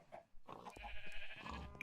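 A Minecraft cow lows in short, bleating bursts, moderately close, with faint game ambience around it and no one talking.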